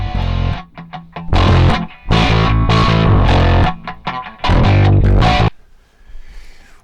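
Heavily distorted, crunchy sounds fed through a loudness plugin come in loud choppy bursts, stopping and starting abruptly before fading into a quiet tail.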